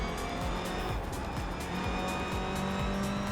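A race car in the iRacing sim slows into a braking zone, its engine drone steady and close with repeated downshift blips and faint tire scrub, continuous for a few seconds.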